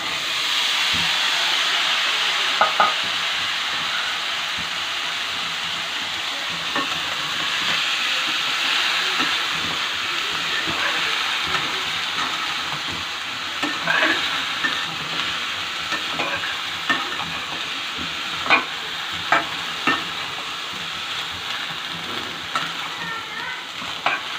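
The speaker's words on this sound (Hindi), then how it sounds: "इसको थोड़ी देर हम फ्राई करेंगे।" Boiled corn frying with spices in a kadhai, a steady close sizzle with scattered scrapes and clinks of stirring throughout, no talking.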